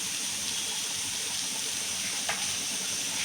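Paneer bhurji masala with tomato and onion being stir-fried in a pan: a steady, close sizzle with a constant hiss throughout, and one brief scrape of stirring near the end. No voices are heard.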